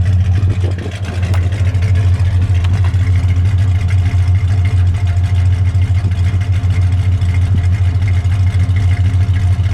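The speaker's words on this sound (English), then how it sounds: "Dual exhaust." A deep, steady engine rumble from a 1965 Dodge Coronet 500 convertible with dual exhaust idles continuously and fairly loud throughout, a low throaty drone with no voices over it.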